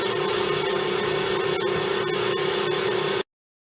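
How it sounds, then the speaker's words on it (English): A stand mixer whisks a homemade wine-flavored marshmallow mixture in a steady, loud, continuous whir that runs unbroken for about three seconds and then cuts off abruptly. "Let the mixture whisk for 10 to 15 minutes and it will continue to get lighter in color and fluffier"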